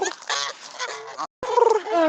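A pet goose gives close, loud honking calls in two short bursts separated by a brief pause, harsh and nasal.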